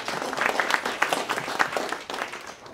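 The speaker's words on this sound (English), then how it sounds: "Let's give a round of applause for Kenzie McKinsey" Applause from a talk audience, steady clapping filling the room at moderate volume, with no talking over it.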